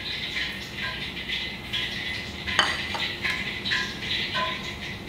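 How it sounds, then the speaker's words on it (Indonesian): High-protein wheat flour mixed with baking powder, salt, stock powder and ground pepper, stirred in a bowl with light repeated scraping and tapping of a utensil close by, and no talking. "Aduk"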